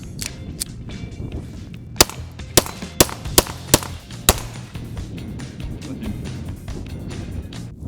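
Beretta APX 9x19 pistol fired in a quick series of about six sharp, loud shots spaced roughly half a second apart, set against steady outdoor background noise.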